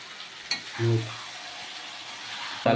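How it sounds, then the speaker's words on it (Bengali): Mutton frying and being stirred in a kadai for a thin Bengali mutton curry, a steady close sizzle with a spoon scraping the pan a couple of times and a brief louder stir partway through. "দেখছেন মটনটা কড়াইয়ের মধ্যে সব দিয়ে দিয়েছি এরপর হালকা করে চারি ঘুরিয়ে সুন্দরভাবে একটু কষিয়ে নিতে হবে"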